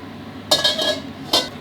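Metal cookware on a stove gives two short, bright clinks and scrapes over a quiet background. A frying pan is being set up with a little vegetable oil for sautéing aromatics, with no voices present.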